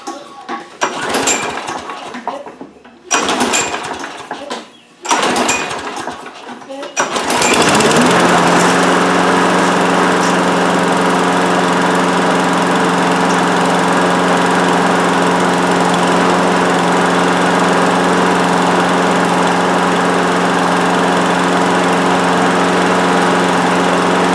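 A few rough pull-start attempts, then a lawn mower engine catches and runs loud and steady, droning without pause.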